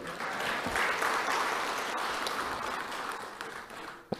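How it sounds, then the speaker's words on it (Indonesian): An audience breaks into sustained applause, a broad even patter of many hands clapping that tapers slightly toward the end. "Tepuk tangan dululah."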